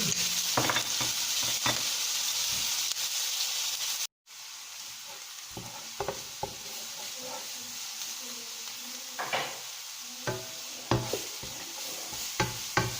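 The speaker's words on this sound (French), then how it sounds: "Donc je fais revenir l'oignon." Onion frying in cod liver oil for samosa filling, a steady close sizzle with intermittent scraping stirs and light pan knocks, briefly cutting out before resuming.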